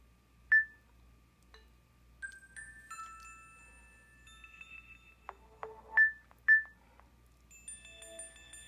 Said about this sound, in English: So this used to be the original Nokia alarm sound.